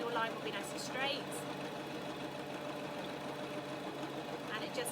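A sewing machine runs continuously stitching a straight seam in fabric, a steady mechanical whir with a soft rhythmic pulse, while a person talks over it.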